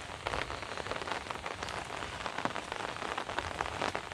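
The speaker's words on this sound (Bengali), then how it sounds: "এই গ্রামীণ পরিবেশে টিনের চালে বৃষ্টির শব্দ" Heavy rain pounds a tin roof in a rural Bangladeshi village, a dense, steady metallic patter with scattered louder drops, continuous and close throughout.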